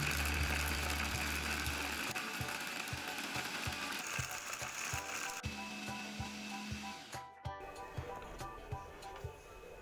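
An electric food chopper grinds macaron ingredients until fine, with a steady motor whir under a rapid rattling and clicking of the blades and contents that shifts in tone partway through.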